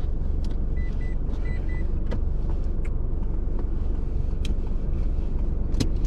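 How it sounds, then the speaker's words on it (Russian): A car passes on a village road, its engine and tyre noise forming a loud, steady rumble that fills the whole stretch, with a few brief clicks and knocks on top. "Какая-то машина тут еще одна идет"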